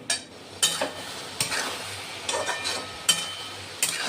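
Masala-coated okra cooking in a pan over a low flame, giving a soft continuous sizzle broken by a few sharp spatula scrapes and knocks against the pan, heard close with no speech.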